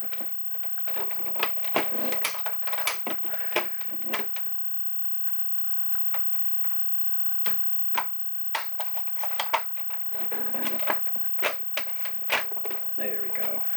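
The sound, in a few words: screws being driven into Nerf Ultra Pharaoh blaster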